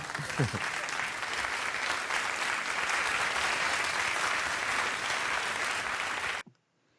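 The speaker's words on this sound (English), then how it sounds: "That was a very long applause." Sustained loud applause from a large crowd, dense and continuous for several seconds before cutting off abruptly.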